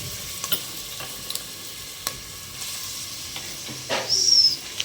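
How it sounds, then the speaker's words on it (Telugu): Onions and green chillies sizzle gently in tempering oil, a quiet steady hiss broken by sharp stirring clicks and a louder burst of frying near the end. "తాలింపు ఆయిల్ వేశారు తగినంత తర్వాత ఉల్లిపాయ పచ్చిమిర్చి అయితే వేస్తున్నారు"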